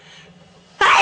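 A single sneeze from someone with ragweed allergies bursts out loud and close after a moment of near silence.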